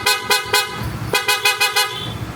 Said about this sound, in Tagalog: Pinagyan natin yung busina PIAA.